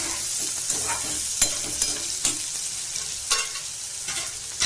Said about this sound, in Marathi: बारीक चिरलेला कांदा असतो ना, तो घालून द्यायचा आणि तो चांगला मंद हिच्यावर लालसर होऊ द्यायचा.